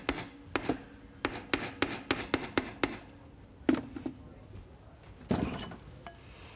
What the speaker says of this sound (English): The hide is a lot softer than the metal, so every strike you make, it's going to make it round rather than actually putting a dent in it.